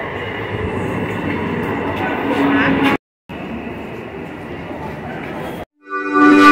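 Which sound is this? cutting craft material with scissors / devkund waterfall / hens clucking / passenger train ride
passenger train ride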